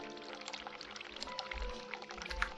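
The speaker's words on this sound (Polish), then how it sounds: "Turn cold water, turn hot water, turn tap off." Water pours and splashes from a tap in The Cat Lady video game, a short close burst of running liquid with soft drips and low gurgles.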